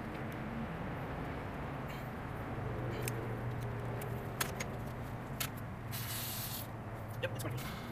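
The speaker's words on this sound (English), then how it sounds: "I'm gonna take off the fuel lines first because it's gonna spray out fuel" Fuel hisses out of a disconnected fuel line on a Volkswagen MK7 during a high-pressure fuel pump install, a steady close spray with small clicks and metallic rattles around it, with no speech.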